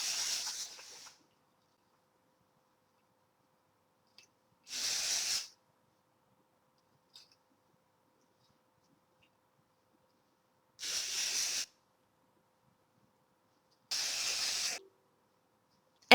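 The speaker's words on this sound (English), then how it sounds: "Now I'm going to use the spray dry shampoo, and I'm just going to put this right where my roots are" Dry shampoo hisses from an aerosol can onto hair roots in four separate sprays, each about one second long, loud and close, with silent pauses between them.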